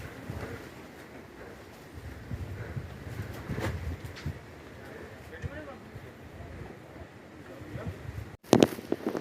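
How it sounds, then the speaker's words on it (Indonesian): Wind buffets the microphone on the Mount Slamet hiking trail, a continuous low rumble with gusty swells, while hikers talk underneath and a sharp handling knock comes near the end. "Waduh, angin Pak."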